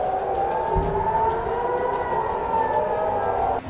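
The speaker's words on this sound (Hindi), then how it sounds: "इजरायल के अपर गैलीली, सेंट्रल गैलीली और हाइफा की खाड़ी में लगातार हवाई हमलों के सायरन बज रहे थे" Air raid sirens wail continuously in the distance over northern Israel's Galilee and Haifa Bay during rocket fire, a steady rising-and-falling tone that holds for several seconds.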